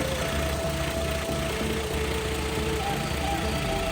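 A 2JZ engine idles on a stock fuel pump, fitted with a Tomei fuel rail adapter and pressure regulator, giving a steady, close rumble with a faint whine running through it.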